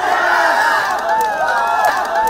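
Loud crowd of alumni, friends and families cheering and shouting at a tug-of-war contest during an outdoor picnic in a regional park; overlapping raised voices and yells close by, sustained without a break.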